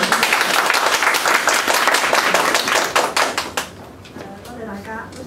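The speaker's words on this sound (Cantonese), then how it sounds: "謝大家嘅掌聲" Audience applause thanks a guest, a columnist and event host, with loud, dense clapping that fades out in the last seconds as a voice begins.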